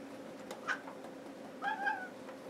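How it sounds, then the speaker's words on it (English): A pet cat meows twice while being stroked, a short mew followed by a longer, clearer meow, close by over a steady low background hum. "I know, I'm petting a kitty."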